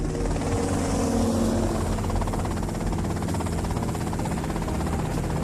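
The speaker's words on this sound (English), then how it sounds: "that's them in the chopper" Helicopter rotor drone in the GTA Vice City game, a steady, loud buzzing thrum that holds level throughout with no voices over it.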